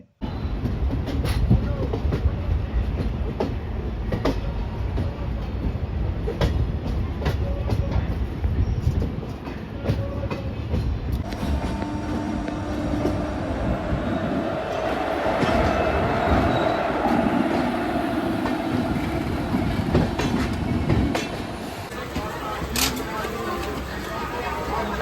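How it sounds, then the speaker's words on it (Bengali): A passenger train, the Kandari Express to Digha, rumbles steadily along the rails with rhythmic clatter throughout, loud and close, with speech heard over the noise. "এই ট্রেন পৌঁছে যায় দীঘা স্টেশনে এবং তার যাত্রা শেষ করে।"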